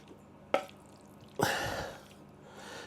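Liquid, likely ale, poured into a pie dish holding two pounds of meat and onions for a steak and ale pie, with a short splash followed by a longer, steady pour.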